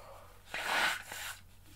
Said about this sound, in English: One second, I just need to blow my nose.